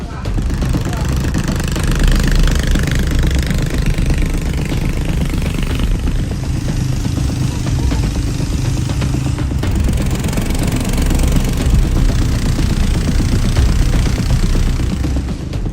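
A motorboat engine drones steadily and loudly throughout a journey along a rocky river, a constant mid-pitched chugging with no pauses.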